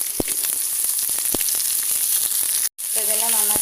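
Shallots, coconut pieces and bitter gourd fry in a pan for a Kerala-style curry, giving a steady close sizzle with scattered crackles and pops and a short gap near the end.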